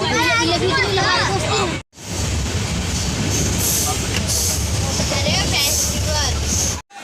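Inside a fully packed moving passenger train, a constant low rumble and rattle fill the carriage while voices chatter over it, with a brief cut partway through.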